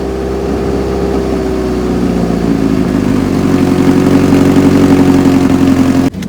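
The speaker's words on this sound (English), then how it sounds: "we're just gonna turn it on and get a sound clip" A Scion xB engine with a hood exhaust exit idles steadily and loudly up close, its throbbing drone rising slightly in pitch before a sudden click at the end.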